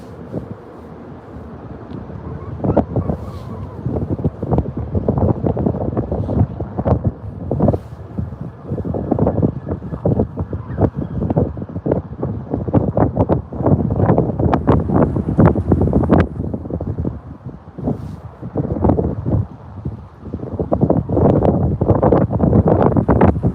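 Strong wind buffets a boat at night on a crappie fishing trip, a loud, continuous roar of gusts pounding the microphone in dense irregular bursts with no pauses.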